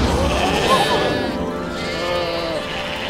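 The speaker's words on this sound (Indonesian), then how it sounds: "Ada gembala-gembala jaga dong pun domba dekat-dekat situ." Sheep bleat close by in a pastoral setting near shepherds, several wavering, nasal calls overlapping in a steady chorus, with a voice narrating over them.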